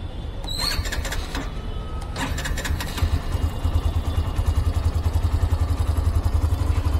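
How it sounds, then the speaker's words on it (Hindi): A 2024 Hero Extreme 125R 125cc motorcycle with ABS runs at idle nearby, its steady exhaust thrumming with low pulsing beats and some mechanical clatter, growing slightly louder and more rhythmic toward the end. "तो आपको एक एग्जॉस्ट नोट सुना देता हूँ"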